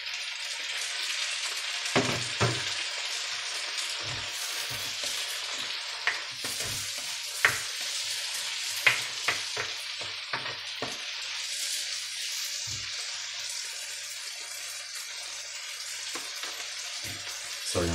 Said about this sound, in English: All right, I'm going to add my tomatoes now.